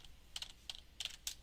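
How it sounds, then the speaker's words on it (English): Keys on a computer keyboard struck in a quick, uneven run of about five crisp clicks, close and quiet, with no voices. "by typing the command"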